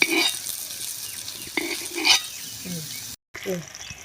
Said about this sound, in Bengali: এই তো আমি পাতা দিয়ে মুড়াই নিছি, এখন ভাজবো